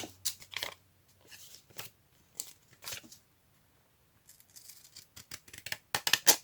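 Scissors cut through paper for a craft project, producing a series of close, crisp snips and rustles in irregular bursts with short pauses between them.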